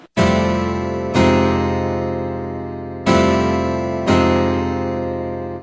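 Keyboard acoustic guitar patch playing block chords that sound unrealistic, all strings hitting at once: four bright, loud chords, each struck abruptly and left to ring and fade, close and clear with no voices.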